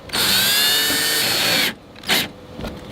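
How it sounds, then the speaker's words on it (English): A power drill driving screws whirs loudly for about a second and a half, then stops, followed by a short second burst and a fainter rattle. "I'm gonna line everything up and just drill it right into the middle"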